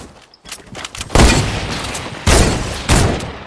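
Gunfire in a first-person shooter video game, several loud bursts of shots a second or so apart against a fainter background, with no voices.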